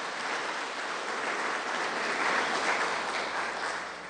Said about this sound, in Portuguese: E dê uma forte salva de palmas para o Senhor Jesus.